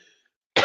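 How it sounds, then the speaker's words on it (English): A single short, loud cough at close range, bursting out after a brief near-silent pause. "now I'm making myself cough"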